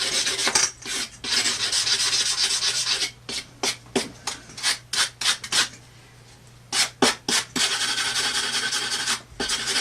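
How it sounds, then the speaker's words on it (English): A file card scrubs rust off an axe blade in close, harsh rasping strokes, first continuous and then broken into quick repeated scrapes before a final sustained scrub. "with the file card I just clean that up"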